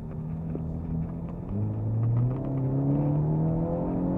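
A Hyundai Elantra N instructor car on a driving course, its engine giving a close, continuous droning note that rises in pitch and then holds steady, with a low rumble underneath and no talk.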